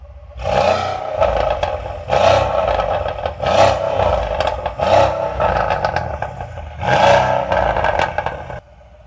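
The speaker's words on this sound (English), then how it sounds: "we're gonna do a rev battle, C63s AMG versus BMW M3 competition" A Mercedes C63s AMG V8 revs hard in a rev battle against a BMW M3 Competition, with five loud, close bursts that roar up and fall back in an uneven rhythm.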